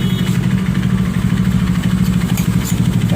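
A Bajaj Pulsar RS200 motorcycle engine fitted with a Yoshimura R77 exhaust canister with silencer, idling with a steady deep throbbing burble, loud and close, holding constant throughout.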